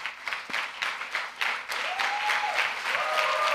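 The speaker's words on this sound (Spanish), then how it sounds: "Y denle un aplauso bien fuerte a Jesús." A church congregation applauds, sparse individual claps building into fuller, sustained clapping, while a few sung or voiced tones rise faintly over the top.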